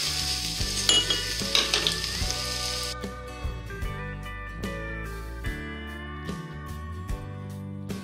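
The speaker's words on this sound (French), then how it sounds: "On va laisser les épices griller avec le poulet, on va lui donner une bonne coloration." Chicken strips browning with spices in a hot pan, a loud dense sizzle that crackles steadily, with utensil scrapes and stirring knocks recurring throughout.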